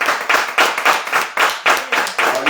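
A church congregation claps in steady rhythmic unison to acclaim Jesus, loud, close and regular hand claps at roughly three beats per second, with no voices over them.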